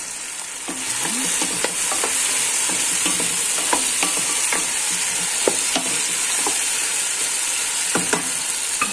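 Carrots and chickpeas go into a hot pan and are stirred, giving a constant near sizzle with repeated scraping and knocking of the spoon throughout.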